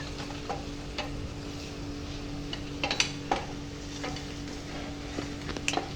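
Chicken coated in chicken 65 kebab masala is stirred and sautéed in a pan. A soft steady sizzle runs underneath irregular clinks and scrapes of a spatula against the pan, fairly quiet and close.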